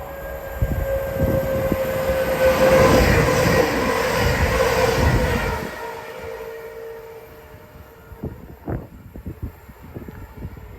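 A train on the West Coast Main Line at Levenshulme, Manchester, rumbles past close by, its loud clattering roar building then fading after a few seconds, leaving quieter clunks and faint track noise.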